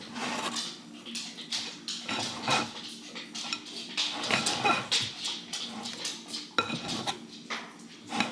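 Utensil scraping around the sides of a bowl of bread dough, a run of short scratchy strokes and clinks close by, with a dog whimpering faintly in the background.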